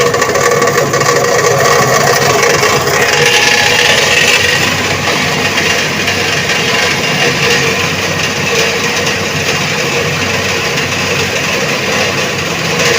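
An AC induction motor runs at increased speed, around 961 RPM, giving a loud, steady mechanical hum and whir that holds evenly throughout.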